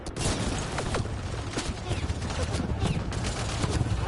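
Rapid gunfire from the video game Mass Effect: Andromeda rattles in dense, overlapping bursts with sharp individual shots, loud and close, mixed with shouted voices.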